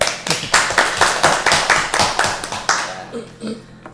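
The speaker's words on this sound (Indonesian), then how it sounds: "Aplaus dulu buat Pak Ihsan." Audience applauding Pak Ihsan at a school talk on teacher vision, brisk rhythmic clapping close and loud that tapers off near the end.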